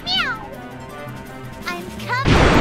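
Voiced character in Disgaea 4 on the Vita imitates a cat with several sliding, high-pitched meows, then ends on a loud crashing hit.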